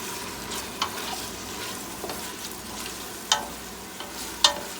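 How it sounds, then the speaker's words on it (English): Red peppers fry in a pan after fresh garlic for beef stew, a steady close sizzle broken by a few sharp spatula scrapes and clicks as they are stirred. "the first thing you fried was a fresh garlic, and then you added up the red peppers, which is that's what I'm frying right now"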